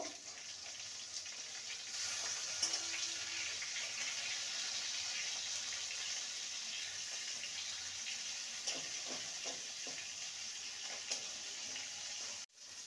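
Pieces of katla fish fry in hot oil in a pan, giving a steady, soft, even sizzle that runs throughout with a few faint clicks and a brief knock near the end, without talk.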